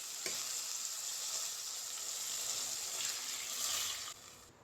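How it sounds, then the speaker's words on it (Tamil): Tamarind water poured into a hot pan of sautéed tomato and green chili for a sankara fish curry sets off a loud, steady sizzling hiss that runs without pause, then drops off abruptly near the end. "உடனே நம்ம கொஞ்சம் கரைச்சி வச்ச புளியை ஊற்றிக்கலாம்."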